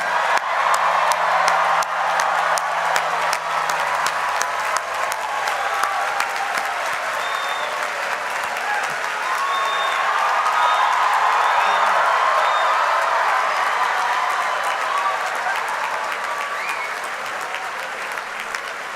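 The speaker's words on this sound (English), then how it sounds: "Ladies and gentlemen, one final applause for the class of 2019." Sustained applause from a large audience at the 72nd annual Claremont McKenna College commencement, honouring the graduating class of 2019, with dense steady clapping that lasts the whole stretch and a few scattered cheers.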